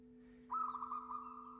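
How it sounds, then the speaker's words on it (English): A bird sings in the evening outside among trees, one sustained warbling phrase, clear and moderately near, over a steady low electrical hum. "the evening song of birds uninterrupted"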